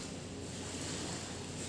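Sea waves roll at La Briza Beach Resort as a steady, faint wash of surf with wind noise across the microphone, no voices.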